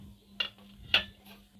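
Fried soybean chunks are lifted out of a pan one at a time, giving two distinct close metallic clinks of utensil on pan with a faint tap after, over a low steady hum.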